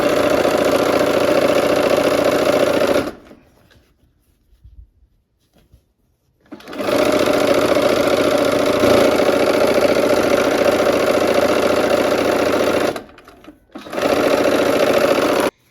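A sewing machine stitches gold and gray quilt strips in two long, loud, steady runs of rapid whirring, with a short pause between them and a brief final burst after a second gap.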